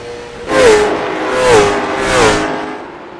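A late model race car in a Donut Box Late Model Series race at Stafford, heard onboard with AJ Plemons, drives its engine through three rising and falling surges of revving, loud and close.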